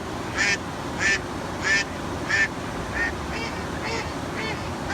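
Ducks quack in a steady series of about eight calls, spaced evenly, over a constant background hiss, the later ones fainter.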